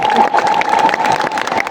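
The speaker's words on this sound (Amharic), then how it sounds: "አጨብጭቡ አስተዳዳሪዎች።" Administrators applaud together in a crowd, a steady dense wash of clapping that holds for the whole stretch with a faint tonal ring running beneath it.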